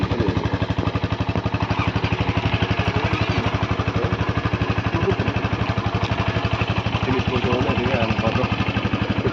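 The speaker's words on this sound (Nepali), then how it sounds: "स्टार्ट गरिरहेको छु बाइकमा" A motorcycle engine runs with a steady, rapid low thumping, close and loud, holding an even idle throughout.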